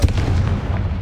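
Confringo blasting spell explosion in the Hogwarts Legacy video game, a single loud deep boom with heavy low rumble that fades over about a second.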